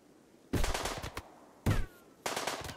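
Colonists fire guns in the video game RimWorld, three distinct rapid bursts of automatic fire separated by short pauses, close and punchy.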